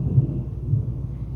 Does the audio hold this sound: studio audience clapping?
no